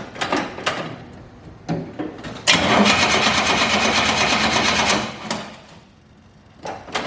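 An old engine cranks in several short, choppy bursts, then catches and runs loudly for a few seconds before fading away, with more brief cranking attempts at the end.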